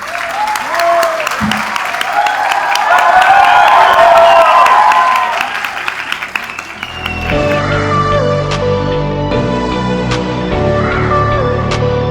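Audience at a felicitation program breaks into loud, sustained applause and clapping that swells then settles, with a voice speaking over a crowd and music-like tones later on.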